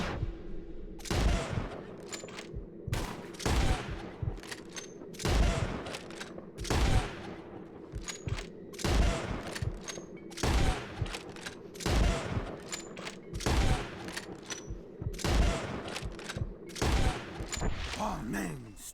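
Repeated gunshots ring out in Red Dead Redemption 2 as players shoot at birds in the sky, sharp cracks coming every second or two in an irregular rhythm, loud and close, with background game sounds between them.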